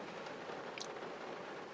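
Steady rain falls in the desert with a soft, even hiss, fairly faint and close, with a few brighter drip ticks partway through and no voices.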